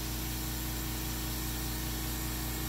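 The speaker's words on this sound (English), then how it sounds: "It's still priming up, so let's give the compressor some time." An air compressor priming up alongside a tire warming machine: a steady, dense mechanical drone with a low motor hum and hissing noise, continuous and close, with no talk.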